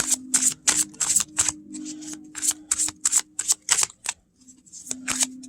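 Tarot cards are shuffled and dropped close by in a quick series of crisp papery riffling bursts, with a short quiet gap before a final few.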